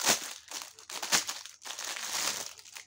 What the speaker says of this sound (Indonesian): Untuk ini wadah cat airnya kita coba unboxing saja unplastik ya